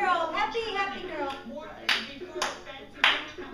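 A few sharp hand claps from a parent playing with a small girl dancing at home, coming after a stretch of an adult's cheerful talk and landing as separate, close claps near the end.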